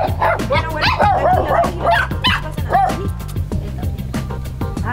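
Several abandoned poodles bark repeatedly in quick, overlapping yips and woofs, fairly close, over a steady low hum.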